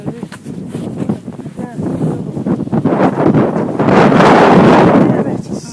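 A 2011 blizzard batters the microphone with heavy buffeting wind, rough and gusty, swelling into a loud sustained roar toward the end, with a few muffled human sounds under it.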